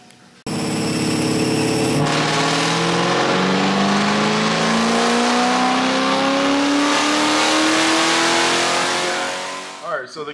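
Race car engine running hard on a dynamometer during tuning, a loud sustained pull with steadily climbing pitch for about eight seconds before cutting off, with a brief idle burble at the end.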